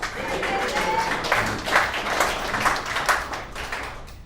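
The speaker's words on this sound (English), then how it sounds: "Let's give him a warm round of applause" Warm applause from attendees at a recovery services alumni meeting, a moderate spread of clapping across the room with some faint voices mixed in.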